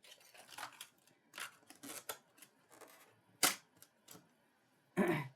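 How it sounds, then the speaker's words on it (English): A die cutting machine rolls an ornament die through for a Christmas gift card holder, giving a string of soft crunching and clicking mechanical bursts and a few sharper cracks, quiet and close with no talking. "You're going to line that up in your die cut machine evenly, just like that, and run that through."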